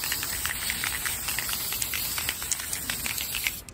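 Spray paint hissing onto 3D printed Digivice parts, a series of short bursts and sputters over a steady airy background, fairly close and alone.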